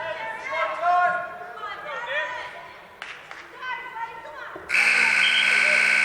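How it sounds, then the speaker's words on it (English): A loud, sustained electronic buzzer ends the first period of a high school varsity wrestling match, sounding after a commentator talks over crowd chatter in the gym. "And there's the buzzer for the end of the first period."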